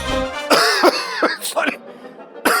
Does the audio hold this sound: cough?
yes